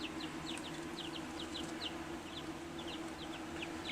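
A few young homestead-hatched chickens cluck and peep softly in a garden pen, short repeated calls scattered over a low steady background hum, fairly quiet and with no talking.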